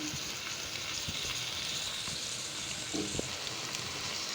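Chicken pieces frying in a pan for a chicken vegetable soup, giving a soft, steady sizzle with a few faint stirring knocks, fairly quiet and without talk.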